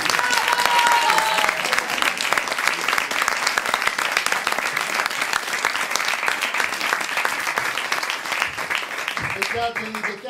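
Steady, loud applause from a theatre audience, dense clapping throughout with a voice briefly heard at the start and a short spoken bit at the very end.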